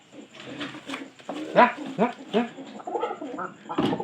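Pigeons coo in soft, throaty bursts, several calls in an uneven rhythm, close by, with some faint chatter mixed in.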